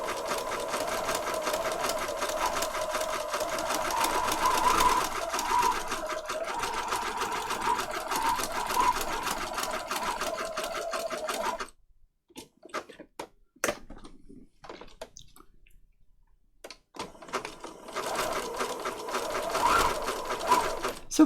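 A sewing machine stitches paper patchwork tags in a long, steady, fast-running burst, stops for several seconds of near quiet with a few small clicks, then starts up again at close range.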